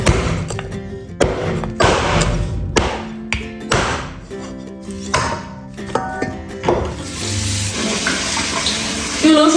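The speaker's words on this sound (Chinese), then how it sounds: "用冷水把上面的血冲洗一下" Pork ribs are rinsed under cold running tap water in a kitchen, a loud splashing flow interrupted by handling and bursts as the meat is moved under the stream.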